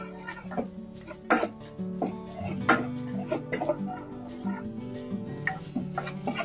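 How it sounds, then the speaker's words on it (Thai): Pounded garlic stir-fries in hot oil over low heat, a soft sizzle under frequent spatula scrapes and clinks against the pan, with a faint voice in the background. "ให้นำกระเทียมที่เราโขลกไว้นำลงไปผัดได้เลยค่ะตรงนี้เนี่ยให้เราใช้เป็นไฟอ่อนๆ นะคะ"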